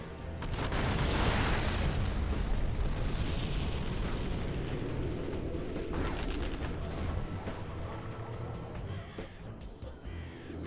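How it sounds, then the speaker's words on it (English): Artillery shells exploding in a Command & Conquer: Generals Zero Hour 2v2 tournament match, a dense run of booming blasts and rumbling impacts that stays loud and continuous throughout, with gunfire crackle mixed in. "We've got artillery coming through"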